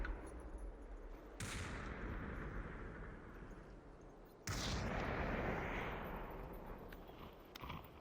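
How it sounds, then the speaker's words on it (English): Gunfire in the VR battle-royale game Population: ONE, heavy booming shots with a few sharp onsets over a dense, continuous roar of noise, loud and close, with no talk. "Shots coming down from the top of the windmill."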